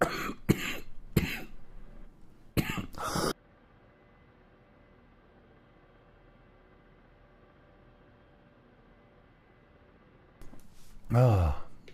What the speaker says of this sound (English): I'm just coughing now.